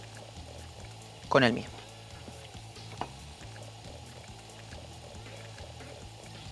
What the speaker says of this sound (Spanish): Tomamos nuestro espumante. Y vamos a mezclar en partes iguales la pulpa